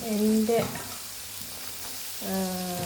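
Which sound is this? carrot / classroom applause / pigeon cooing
carrot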